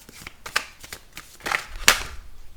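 Tarot cards being shuffled by hand, giving a run of soft riffling bursts and papery slaps, with one sharper snap near the end, close and fairly quiet.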